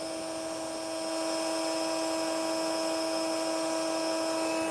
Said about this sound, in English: I am going to cut that out with a piece of sandpaper because there is definitely something pretty epic in there.